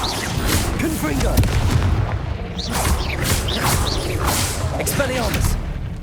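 Confringo fire spell blasts in the game Hogwarts Legacy, dense rumbling booms and whooshing bursts overlapping continuously amid loud combat noise, with shouted voices mixed in.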